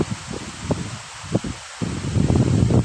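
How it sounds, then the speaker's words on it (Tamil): Wind gusting along a lakeshore in the early evening before rain, heard as rustling, breathy gusts and mic buffeting that swell toward the end, loud and close with no talking. "இங்கே அடிக்கிற காற்று பாருங்கள் அப்படி ஜில்லுன்னு சூப்பராக இருக்குது"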